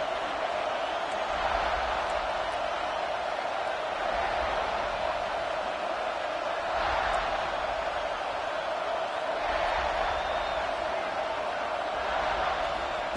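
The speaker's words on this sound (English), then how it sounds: "This crowd ready to make its presence known" Crowd noise fills a college football video game stadium as a constant, even murmur and roar, with low thumping swells rising and falling every few seconds.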